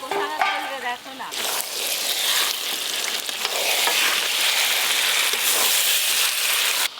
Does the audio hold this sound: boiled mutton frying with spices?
yes